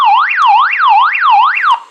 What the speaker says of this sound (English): The long one sets off that alarm siren.